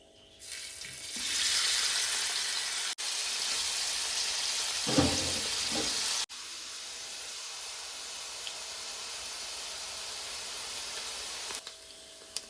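Anchovies frying in hot oil for a fish pickle, a loud continuous sizzle and hiss with a brief bubbling burst midway, close and alone without speech.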